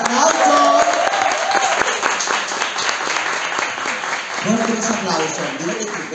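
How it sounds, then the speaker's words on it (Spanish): A crowd at a drag queen casting show claps loudly and continuously for several seconds while a host's voice speaks over the applause. "Fuerte los aplausos para Venus Dragon"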